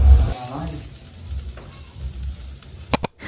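Chicken sizzles on a grill at a first home barbecue, a soft steady crackle under low rumbling handling noise, ending with a few sharp clicks.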